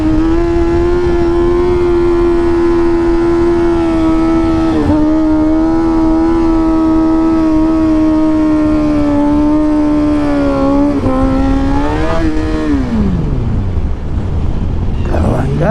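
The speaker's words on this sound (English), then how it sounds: "Gotta get that wheelie in, don't I?" A Shipbox 750 motorcycle engine holds a steady high rev, close and loud, then climbs briefly and drops sharply as the throttle rolls off, with a voice faintly present.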